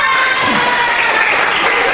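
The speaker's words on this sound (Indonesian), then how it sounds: "Jadi tepuk tangan buat kelompok" A classroom of students claps for a student group after their work, a short, loud, dense burst of applause mixed with a little cheering.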